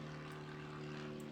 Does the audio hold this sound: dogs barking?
no